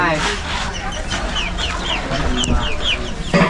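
Chickens cluck and squawk repeatedly at close range, with a rooster-like call rising in between, over a busy, noisy farmyard background.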